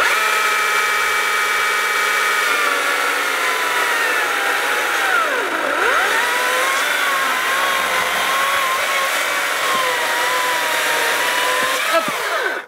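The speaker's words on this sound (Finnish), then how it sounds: "leikata tällainen niin kuin yhtäjaksoisen sahauksen näistä noin parikymmentsenttisistä koivupölleistä kiekko" A battery chainsaw whines steadily as it cuts through a birch log about twenty centimetres thick, the motor pitch dipping under load partway through before the cut finishes and the sound cuts off abruptly.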